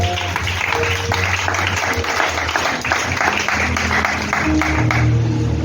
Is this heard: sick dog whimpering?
no